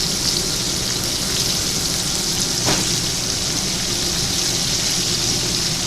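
Steak sizzles in a hot pan topped with compound butter at a barbecue restaurant before going into a 550-degree oven; a loud, steady, continuous frying hiss plays alone with no pauses.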